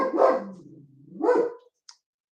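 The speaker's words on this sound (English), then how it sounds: "Typically, when my dog is barking, that means somebody's walking past our house too slow." A German Shepherd gives two loud, close barks about a second apart, each with a deep, drawn-out tail, then a tiny faint sound and silence.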